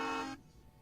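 Truck horns blare loud and close in a steady honk during a trucker convoy protest in Ottawa, then cut off abruptly, leaving faint street noise.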